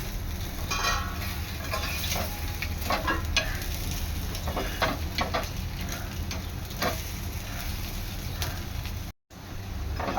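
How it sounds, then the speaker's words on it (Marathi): Potato slices frying in a pan and being turned over one by one, a constant close sizzle with irregular spatula scrapes and taps, a brief dropout near the end, and no voices. "आता इथे मी सर्व काप एका साइडने चांगले पलटून घेतलेले आहेत"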